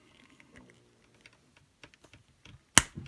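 A small plastic Playmobil figure part snaps into place with a sharp, loud click near the end, preceded by faint scattered fiddling clicks from handling the toy.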